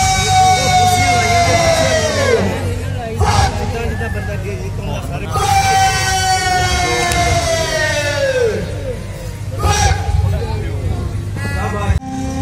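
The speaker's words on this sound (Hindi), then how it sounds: "अभी सायरन बज रहा है," A siren wails in long rising and falling sweeps at an outdoor Independence Day parade, loud and repeated over a low engine rumble and crowd babble, with someone talking over it.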